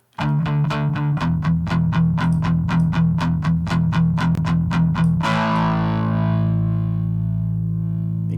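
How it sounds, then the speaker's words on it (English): Electric guitar played through a DIY amplifier with heavy distortion: a fast run of repeated picked notes, then a sustained ringing chord that slowly fades, loud and close with no talk. "we get less of the nasty distortion up here, the thin papery stuff"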